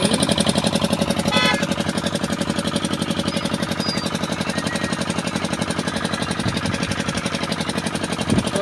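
An Activa scooter engine idles nearby with a rapid, even putter, steady and fairly loud throughout, with no one speaking.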